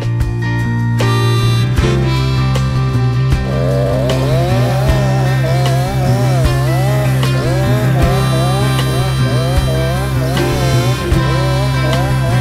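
A Husqvarna chainsaw fitted with a Triobrake chain brake cuts branches, its loud, close engine droning steadily and bogging in repeated wavering pitch swells as the chain bites into the wood.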